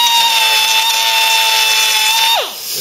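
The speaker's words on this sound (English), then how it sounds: "So we've got the die grinder running." A die grinder dressing the wheel wells of a Cortina GXL under restoration whines at a high, steady pitch, loud and close, then spins down sharply near the end.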